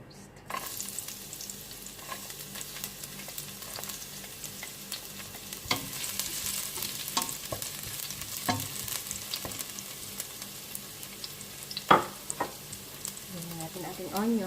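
Garlic sizzles in hot oil in a heated pan as the cook starts a pork blood stew, making a steady, close frying hiss with occasional stirring scrapes and a sharper clack near the end.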